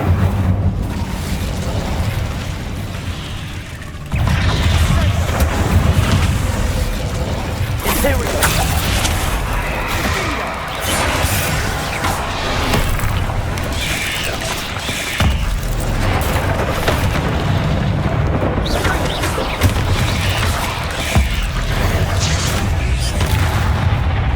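Spell blasts and explosive booms from Hogwarts Legacy combat, repeated loud thumps and crackling impacts across a continuous battle soundscape, with a voice talking over parts of it.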